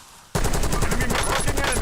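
Gunfire in Call of Duty Warzone: after a quiet moment the shooting starts abruptly and stays loud, a dense, continuous run of automatic shots close by until the end.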